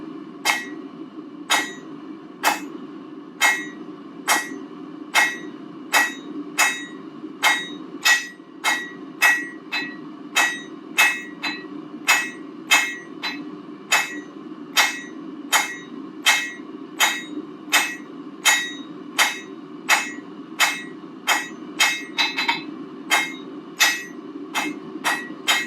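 Hammer blows forging a taper on a bar over an anvil, ringing strikes falling in a steady, even rhythm of roughly one per second, close and bright, with no talking.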